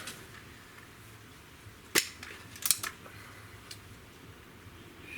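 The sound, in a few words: Crosman TR77 air rifle shot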